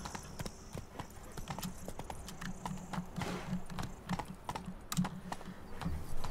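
Geralt's horse Roach in Witcher 3 clip-clops along at a steady quick gait, hoofbeats tapping rhythmically under quiet game ambience.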